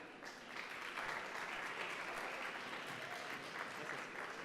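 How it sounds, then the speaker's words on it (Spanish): Audience applause welcoming a guest speaker at a Google brand event in Mexico, steady sustained clapping from a crowd throughout, fairly even and full without breaks. "si les podemos dar un fuerte aplauso acá a Gonzalo."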